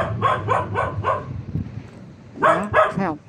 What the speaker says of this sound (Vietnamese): có con chó nó sủa quá trời luôn nè, nó leo lên trên cái bục, nó leo lên trên cái phần mộ nó sủa luôn nè